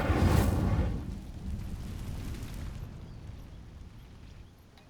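A fire spell cast in Hogwarts Legacy erupts as a single loud whooshing burst that flares at the start, then rolls into a long, fading roar of flame with no talk over it.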